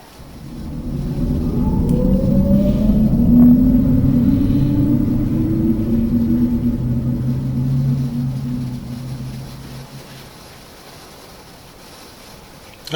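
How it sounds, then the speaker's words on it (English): Deep rolling thunder rumbles with steady rain in the video game Dreamcore Dreampools, a heavy continuous roar that builds, holds for several seconds, then fades to a quieter wash near the end. "Oh, it sounds like it's raining outside."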